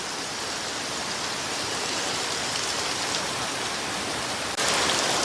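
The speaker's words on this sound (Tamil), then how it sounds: "மழை பெய்து கொண்டே இருக்குது." Heavy rain pours in Jaffna as a dense, constant hiss. It stays even and loud throughout and swells slightly louder near the end, with no voices.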